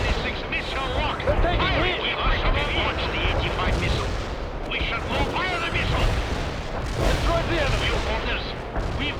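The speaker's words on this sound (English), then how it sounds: "We must launch the 85 missile." A dense wartime battlefield in the real-time strategy game World in Conflict, with missile launches and explosions rumbling continuously under heavy gunfire and artillery, loud and sustained, with shouted unit voices mixed in.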